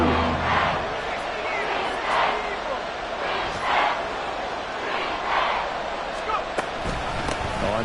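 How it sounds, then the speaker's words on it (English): Football stadium crowd cheering in a steady, swelling roar that rises and falls in waves, with a commentator talking over it. "And this crowd into it now."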